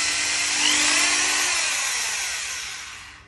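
A Japanese power drill with wall-drilling and hammer-drill modes runs continuously with a loud, steady motor whine, its pitch sliding as the speed control is adjusted, then easing off toward the end.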